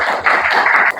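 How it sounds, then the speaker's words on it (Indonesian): Students in a classroom give a brief burst of dense, fast clapping, close and fairly loud, ending abruptly after about a second. "Berikan tepuk tangan."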